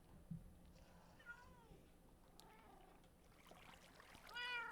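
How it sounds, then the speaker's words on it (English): Cats in the Minecraft video game meow and chatter in short, quiet bursts spread across the clip, with a louder cluster of meows near the end and soft game ambience underneath. "These cats are very chattery. Yeah, they like to talk."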